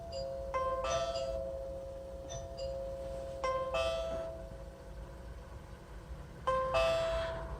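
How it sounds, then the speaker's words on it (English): A SimpliSafe doorbell chime rings out three times, each a clear two-tone ding-dong with a ringing decay and short pauses between, over a faint background hum. "this was a Simplisafe doorbell that I had problems with the other day"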